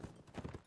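Horse hooves clop in a quick, uneven patter during a cavalry line battle in a video game, faint and brief at close range.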